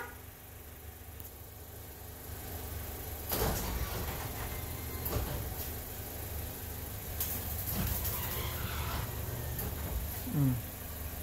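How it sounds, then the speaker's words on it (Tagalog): A garage door is shaken to drive out a dove, giving loud rattling bangs and metallic clatter in a few bursts over a steady background hum, with no clear talk. "Ginagalaw na namin yung pinto."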